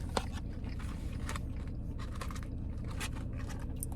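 Someone eats Wendy's French fries up close, with soft crunching and chewing bites and a faint scrape, steady over a low background hum.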